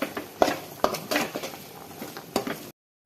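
Egg bhurji being stirred in a pan with pepper powder and garam masala: close, irregular scraping and metallic clinks of a utensil against the pan, with a few sharper knocks, ending abruptly in silence.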